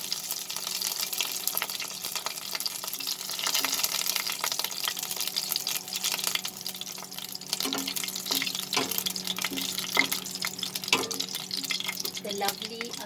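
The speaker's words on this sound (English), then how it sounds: "Then we are going to add these curry patta leaves." Wet curry leaves dropped into hot oil while cooking bottle gourd bhaji crackle and sizzle steadily up close, with sharper pops and spatters toward the end.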